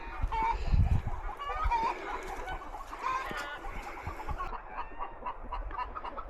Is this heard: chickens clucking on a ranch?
yes